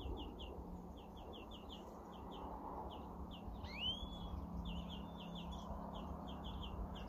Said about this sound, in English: Young birds leaving the nest, I think. Just learning to fly.